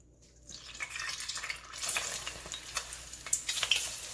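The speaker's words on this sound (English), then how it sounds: "now these are ready to be deep fried" Pieces of beef honeycomb tripe drop into hot oil and deep fry, the quiet start swelling into a steady crackling sizzle with bursts of popping, close and with no one talking.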